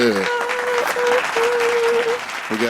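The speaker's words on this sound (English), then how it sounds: "You finally clapped." A small group of podcast guests claps with brisk, dense applause that runs for a few seconds, close and fairly loud, with a sustained voice and talk running through it.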